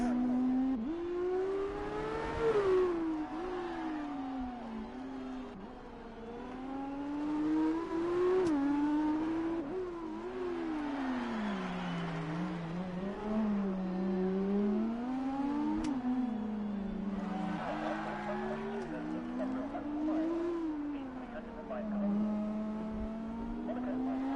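Formula 2 race cars on the Monaco street circuit drone past continuously, engine notes rising and falling through gear changes and corners, a steady mid-distance roar throughout.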